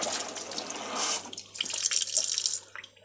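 Water from a tap runs and sloshes inside a carton of coconut milk being rinsed out while cooking, a close, steady splashing that fades briefly before dripping and swirling resume, with no speech.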